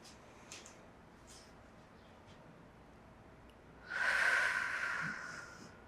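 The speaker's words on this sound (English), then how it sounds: "we'll take a few deep breaths here" One slow, deep breath taken during a yoga session, a faint soft inhale followed by a fuller airy exhale near the end, close and otherwise quiet.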